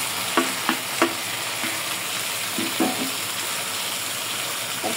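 Singi fish and fried potatoes are sautéed together in a pan for a village-style curry, a steady hissing sizzle under a few sharp spatula scrapes and clinks near the start and middle.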